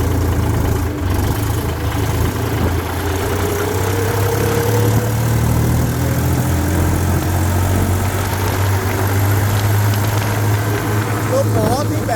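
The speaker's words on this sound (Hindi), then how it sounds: "तो बहुत ही बेहतरीन स्पीड निकाल रहा है जी ट्रैक्टर" A Solis 5015 tractor with Japanese technology drives at road speed in fifth gear. Its diesel engine holds a loud, steady low drone with constant rumbling noise throughout.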